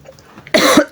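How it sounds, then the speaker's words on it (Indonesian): One loud, close cough bursts out after near silence: a single harsh, throaty hack lasting under half a second. "Batuk lagi ya."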